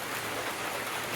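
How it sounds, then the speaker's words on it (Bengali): Heavy rain falls on a foggy hilltop at Rongtong near Siliguri, a steady, dense hiss of downpour with no voices. "আর ঝমঝমিয়ে বৃষ্টি হচ্ছে, আর চারিদিকে ফগ।"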